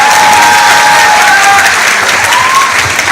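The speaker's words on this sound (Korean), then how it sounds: "여러분 다시 한번 큰 박수 부탁드리겠습니다" Sustained, loud applause from a school arts-festival audience honouring a family on stage, steady dense clapping filling the room with a faint crowd murmur underneath.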